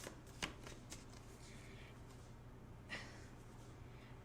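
Soft papery riffles of cards being shuffled, a few quick flicks over a low steady hum, close and quiet.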